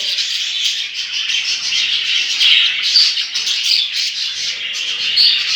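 Pet budgerigars chatter, chirp and squawk continuously at close range in a home breeding setup with a nesting pair, a dense, busy flock warble with no talking.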